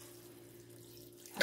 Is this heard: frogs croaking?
no